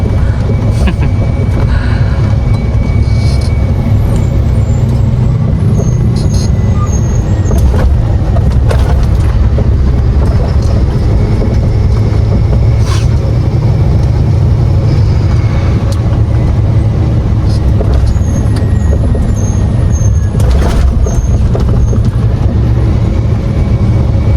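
Container trucks rumble at a port terminal at Tanjung Priok while being refuelled with diesel: a loud, continuous low engine drone with scattered clanks and brief higher tones, no talk.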